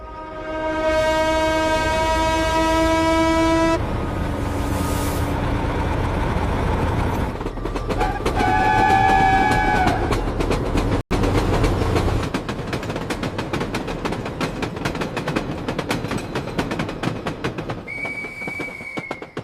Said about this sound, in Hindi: तभी अचानक से कहीं दूर से ट्रेन के हॉर्न की आवाज आती है।